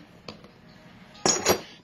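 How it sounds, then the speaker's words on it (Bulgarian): Glycerin is added to a mortar and stirred, giving a faint clink followed by a brief cluster of louder ceramic scrapes and knocks close by. "Прибавям в хаванчето, разбърквам"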